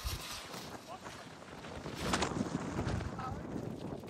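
Strong winter wind at an outdoor kite-flying session buffets the microphone in rough, gusting rumbles that swell in the second half, with people talking through it.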